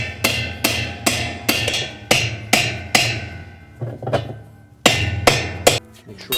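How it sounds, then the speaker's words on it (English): A hammer taps a spanner wrench to tighten the tub nut on a Whirlpool washing machine during a suspension pad repair, a steady series of sharp metallic knocks, close and loud, about a dozen blows with brief pauses. "And then tap it tight with the hammer."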